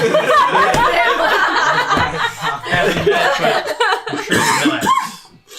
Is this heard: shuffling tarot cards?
no